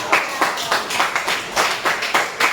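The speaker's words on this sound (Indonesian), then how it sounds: "Tepuk tangan." A classroom of students claps together in a lively, rhythmic burst, the hand claps close and fairly loud in brief repeated waves.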